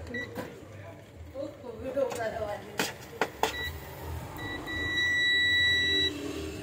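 A sharp multimeter continuity buzzer tone sounds for a second or two amid faint clicks and clatter, with a brief short beep before it, while testing diodes in a Samsung 40-inch LED TV.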